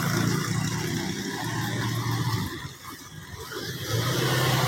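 A junk car is driven out of its spot, its engine droning steadily at close range with a low rumble that dips briefly midway before rising again; no talking.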